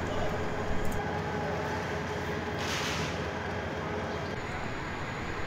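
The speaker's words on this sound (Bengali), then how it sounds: "এই মুহূর্তে আপনারা দেখছেন যে 1 নম্বর প্ল্যাটফর্ম থেকে একটি লোকাল ট্রেন কিন্তু ছেড়ে যাচ্ছে" A local commuter train pulls away from platform 1 at a morning station, its steady broadband rumble and rolling wheel noise filling the scene at moderate distance, with a brief brighter hiss midway.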